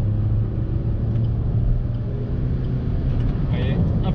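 Small turbocharged engine of a Suzuki Swift Sport while driving, a steady loud rumble with road noise and a slight rise in revs near the end.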